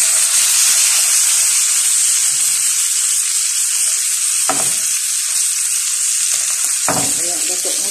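Garlic frying in a home kitchen pan, a loud steady sizzle throughout, broken twice by short stirring clatters.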